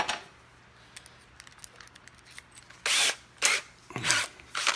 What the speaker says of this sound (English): we're just going to drill through that, make the hole larger